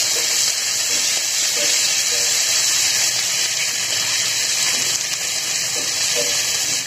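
Ginger and garlic paste fry in a pan with onions for a dhaba-style egg tarka, a loud continuous hissing sizzle with faint stirring sounds underneath.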